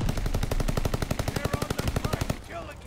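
Rapid automatic assault-rifle fire in Call of Duty Vanguard's Arms Race mode, a dense rhythmic burst of close, loud shots running for about two seconds before cutting off into faint game ambience.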